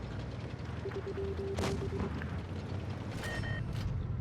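Tank cannon fire in World of Tanks Blitz, with sharp booming shots over a constant low engine rumble, a couple of loud blasts plus brief tonal game beeps.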